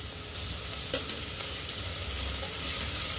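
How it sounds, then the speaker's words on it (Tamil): Onions, curry leaves and green chili sauté in a pan for a vada curry, giving a steady near sizzling hiss with a single sharp utensil tap partway through. "வெங்காயம் நல்லா வதங்கட்டும்"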